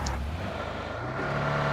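A car arrives nearby, its engine a low steady rumble that rises slightly in pitch as it approaches over about two seconds, with no talking.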